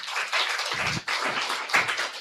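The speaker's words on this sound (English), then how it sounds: "I would like you all to join to give a round of applause for his presence here" An audience at an evening talk in Michigan applauds to welcome a guest speaker, dense sustained clapping from many hands, steady and close with little other sound.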